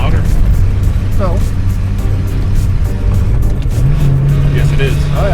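A rally car's engine drones loudly and steadily from inside the cabin during a TSD loop rally, its exhaust rasping under continuous talk, with the pitch stepping up near the end.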